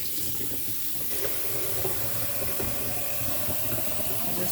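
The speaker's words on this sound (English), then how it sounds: "what I like to do is I turn on warm water" Warm water runs steadily from a sink tap in a broad, continuous rushing hiss, close and unbroken, with no one speaking.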